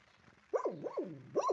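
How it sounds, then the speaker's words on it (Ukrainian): Dogs bark faintly in the distance, a couple of rising and falling yelping barks after a quiet start, with nothing else heard over them. "Собаки гавкають, але ну то не наші."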